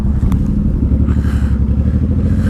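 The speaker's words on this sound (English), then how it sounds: "I can give it a little juice, right?" A motorcycle engine blipped on the throttle after its tires have warmed, a loud, close, rapidly pulsing exhaust rumble with a short clattery rev near the start.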